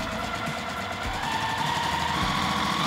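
Sewing machine running steadily as it stitches full-length fabric strips together for a disappearing nine-patch quilt, a continuous close mechanical hum with a faint rhythmic knock, no talking.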